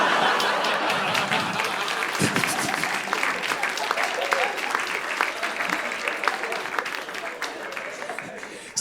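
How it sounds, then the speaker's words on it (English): Sustained applause from a comedy-club audience, steady dense clapping with a few laughs mixed in, filling the room for several seconds without letting up. "Still clapping it, that's cool."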